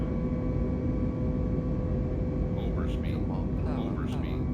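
An airliner lifts off in a flight simulator game, a steady, loud engine roar with constant tonal hum filling the whole stretch, while someone talks over the latter part.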